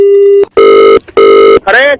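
Telephone ringing in loud repeated electronic bursts, three rings separated by short gaps, followed by a brief warbling tone.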